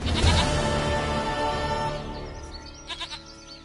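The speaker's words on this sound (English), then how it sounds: "Goat of mine, dearest, sweetest goat." A goat in The Witcher 3 lets out a long, wavering bleat up close, fading into quieter background sounds.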